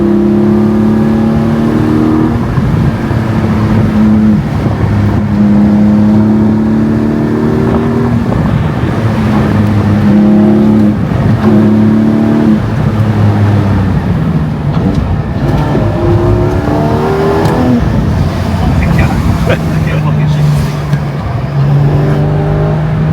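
Porsche 718 GT4 sports car driving hard on a winding mountain road, its engine note climbing and dropping through repeated loud accelerations and gear shifts, heard from inside the car with no talk.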